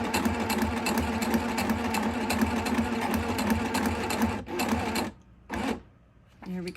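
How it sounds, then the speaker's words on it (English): A sewing machine stitches through Dura-Lar plastic sheet, a steady rapid mechanical chatter running continuously at close range, then stopping abruptly with short bursts of restarting near the end. "you can sew on the wet media Dura-Lar and the matte Dura-Lar, really any of the plastic sheets"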